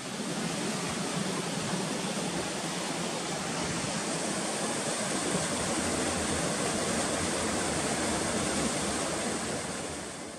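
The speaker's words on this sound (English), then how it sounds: "we've made it up here to the first water crossing" A forest trail stream at a water crossing in Roosevelt National Forest, a constant loud rush of flowing water heard close and unbroken, with no talking.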